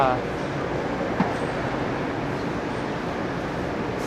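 Inside a Gold Line metro train arriving at Charoen Nakhon station in Bangkok, a steady, loud rolling rumble and hiss fill the space continuously, with one faint knock partway through.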